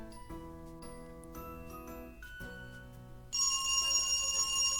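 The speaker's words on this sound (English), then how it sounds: "The ringing echoes down the hallway." A telephone rings inside the horror video game Dread Weight with a tinkling, bell-like tone, then breaks into a louder, brighter electronic ring partway through. No one speaks.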